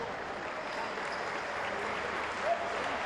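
Basketball crowd applauding a strong defensive stand by Quimsa in a 2016 Liga de Las Americas game against Toros del Norte, a steady broad wash of clapping and cheering from the arena stands that holds for several seconds.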